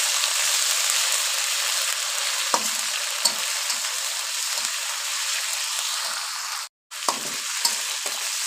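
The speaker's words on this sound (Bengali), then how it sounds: "রসুন আদা ভালোভাবে একটু ভাজা নিই।" Garlic and ginger paste frying in a wok for a rohu fish and taro curry, a steady close sizzle with occasional stirring scrapes and a brief break near the end.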